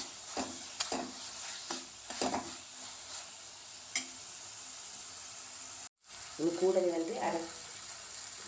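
A spoon stirs curry leaves, coriander and chili powder into tomato rasam in a pan, giving soft scraping strokes over a faint sizzle, with a brief burst of louder frying near the end, while a person talks.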